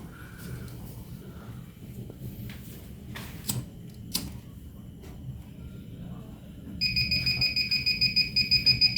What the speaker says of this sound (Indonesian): ditandai dengan buzzer berbunyi